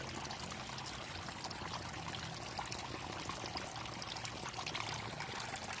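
Steady splashing pour of water running out of a new crayfish tank filtration setup, an even close rush of liquid throughout with no voices.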